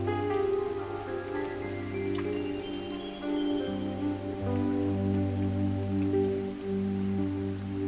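Steady rain falls in a continuous, even hiss, with a low sustained drone running underneath it throughout.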